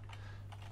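Keystrokes on a computer keyboard while entering a command on a BeagleBone setup, a few quick clicks in two short bursts over a steady low hum, close and fairly quiet.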